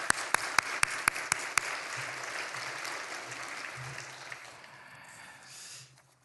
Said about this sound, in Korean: 우리 헤세드 찬양팀과 그리고 우리 세배 성가대를 위해서 함께 박수하겠습니다